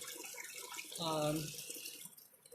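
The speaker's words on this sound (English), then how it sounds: "She's just pouring the solution" Etching solution poured into a gallon jar, a short, faint liquid splash and gurgle lasting about a second against quiet room noise.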